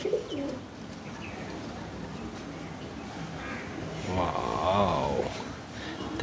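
Single-tail Madrasi pigeons give a low, rolling coo that swells near the end over steady background noise, with faint voices around.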